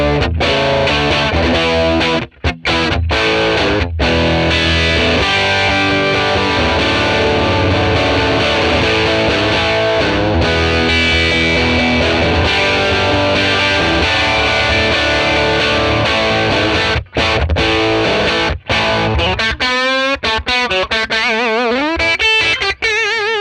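A Les Paul electric guitar plays through a 1957 Tweed Bassman amp model, loud and driven with thick distortion, sustained chords and phrases ringing out with a few short pauses and faster runs near the end.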